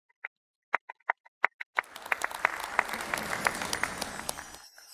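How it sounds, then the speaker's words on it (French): A few scattered individual claps start an audience's applause, which quickly swells into sustained, lively clapping from a crowd before ending abruptly. "Applaudissons-le."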